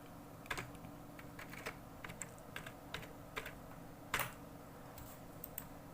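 Soft, steady typing on a computer keyboard while working in an Excel spreadsheet, with quick irregular keystrokes and a few sharper clacks over a faint constant room hum, no voices.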